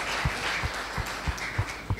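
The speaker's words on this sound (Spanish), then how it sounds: "Dale un fuerte aplauso." Scattered applause from a church congregation at a Spanish-language service, thin and uneven, with a few louder claps rising above a soft wash of clapping over a brief moment.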